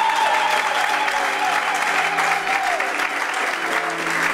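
Church congregation applauding, a dense sustained clapping from a large crowd filling the room steadily from start to finish, with faint voices mixed in.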